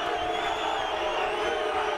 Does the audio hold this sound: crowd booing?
yes